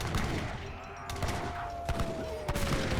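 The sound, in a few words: Pistolero gunfire in the video game Age of Empires 3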